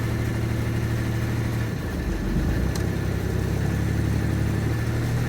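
A boat's inboard motor idles steadily at about 1500 rpm while moored at the dock, a close, continuous low mechanical hum with a brief shift in tone midway and no talking.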